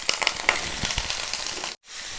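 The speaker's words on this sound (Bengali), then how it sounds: "আর এখন আমি চাল কুমড়োগুলোকে দিয়ে দিচ্ছি তেলের মধ্যে।" Ash gourd pieces dropped into hot mustard oil, with bursts of crackling sizzle and a few sharp pops up close, easing into a steady fry after a short break.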